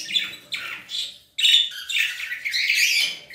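Agapornis lovebirds, an opaline male among them, chirping in a run of bright, rapid tweets and squawks that come close and fairly loud with short pauses between bursts, no talking over them.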